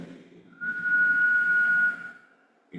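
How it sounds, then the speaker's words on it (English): A single steady whistled tone, held for over a second at moderate loudness, with faint background murmur before and after. "it could be a whistle"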